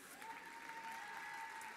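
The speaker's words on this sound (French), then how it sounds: "Bien, c'est ça, applaudissez-les." Audience at a gala applauding performers, a steady wash of clapping sustained throughout; a faint tonal hum runs underneath.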